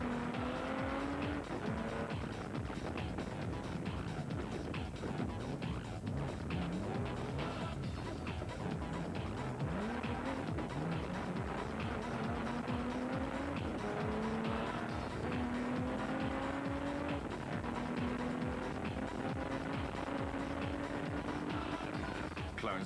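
Rally production cars racing along a route in the Limpopo 400, engines revving hard and continuously with rising pitch sweeps through gear changes, loud and close with tire squeal.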